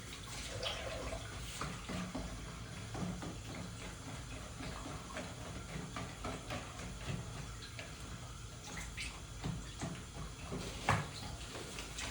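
Tap water runs steadily into a sink or basin, a continuous close splashing rush with small irregular gurgles and clinks.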